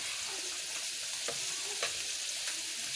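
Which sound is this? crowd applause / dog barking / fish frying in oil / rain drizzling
fish frying in oil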